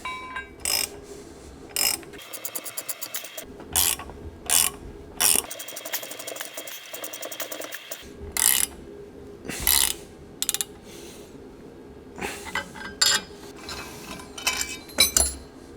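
Ball joints are pressed out of a BMW 850i V12 suspension carrier, with sharp metallic clicks and ratcheting clanks in irregular bursts over a low mechanical hum.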